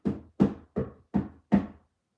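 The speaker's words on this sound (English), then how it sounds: "Those knocks" Five loud, hollow knocks land in an even, steady rhythm close by, each ringing briefly before the next, with no voices.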